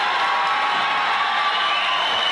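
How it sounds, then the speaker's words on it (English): A packed high school gym crowd on basketball senior night roars in a sustained, dense wall of cheering and shouting that holds steady throughout with no break. "And listen to this crowd."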